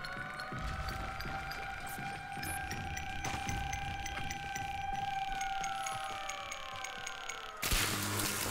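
Air raid siren wailing in the Warframe video game, a steady sustained tone that slowly falls in pitch before cutting off near the end, with a burst of noise following and game ambience beneath.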